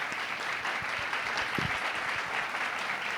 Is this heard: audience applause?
yes